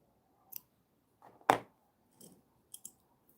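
Scissors snip crochet yarn on a finished snowflake, a few quiet clicks and one sharper close cut amid soft handling noises.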